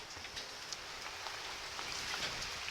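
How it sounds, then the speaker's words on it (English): Rain falling steadily on a rainy day, a soft, constant hiss dotted with faint, scattered drop taps, heard alone at a moderate distance. "May be able to see the rain falling in the background"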